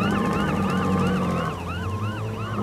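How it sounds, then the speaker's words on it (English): Cartoon ambulance siren wailing loud and close, with repeating rising and falling sweeps over a steady low vehicle hum and no talk. "Mr. Frog, please stop the ambulance."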